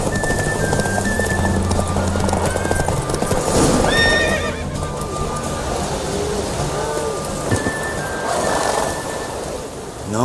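A horse whinnies amid steady clip-clop of hooves during a horse race in The Witcher 3, with a second neigh later over continuous galloping and a soft rain-like hiss in the background.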